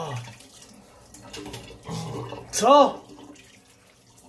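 A tap running water in a recording studio, a soft rushing stream that swells and fades beneath excited Polish talk, with a short exclamation cutting in over the flow.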